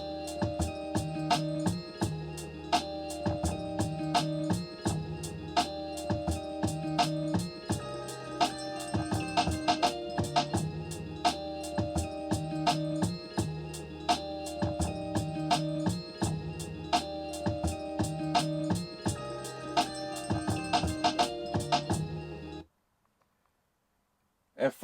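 A hip-hop beat loops steadily with punchy one-shot bass hits and crisp percussion in a tight repeating pattern, moderately loud, then cuts to silence near the end.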